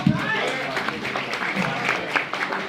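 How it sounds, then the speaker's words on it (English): Audience at an NEA honors brunch applauding: a short burst of scattered clapping and cheering from a crowd, moderately loud and continuous for a few seconds. "One more round of applause."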